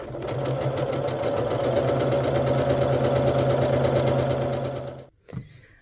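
Sewing machine stitching quilt fabric in one steady, fast, close whir that runs for about five seconds and then stops abruptly, followed by a faint clunk.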